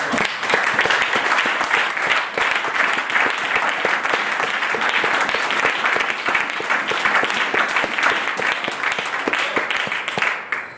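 A church congregation applauds loudly and continuously for about ten seconds, a dense wash of many clapping hands that fades slightly at the very end.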